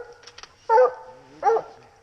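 A coon hunting dog barks twice outdoors, each a single loud yelp with a gap between, over faint background noise.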